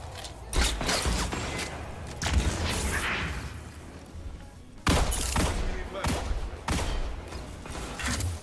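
Shotgun blasts in a competitive first-person shooter match, several sharp loud bursts at irregular intervals over ongoing game sound effects and mechanical clatter.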